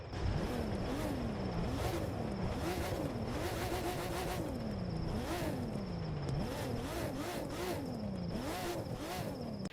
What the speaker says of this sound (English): I also love the sound of this Porsche.